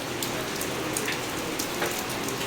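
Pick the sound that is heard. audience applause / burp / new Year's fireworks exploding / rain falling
rain falling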